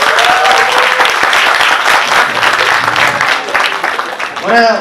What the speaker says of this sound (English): Could we please give everyone here a round of applause?